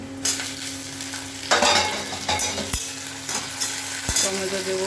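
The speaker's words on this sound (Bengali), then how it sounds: "মাছ ভালো করে লাল লাল করে ব্রাউন কালার ভাজা হয়ে গেছে বন্ধুরা। এইবারে আমি টমেটো দেবো" Fish browned in a frying pan sizzles steadily and close, with stirring scrapes and a couple of sharp clinks as tomato goes in; no one talks.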